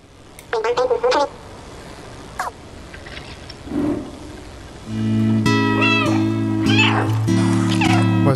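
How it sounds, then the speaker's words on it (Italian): The cat character in the video game Stray meows several times, first a quick series of calls, then more mews over in-game music, with a person talking in between. "Credo che basti miagolare, forse."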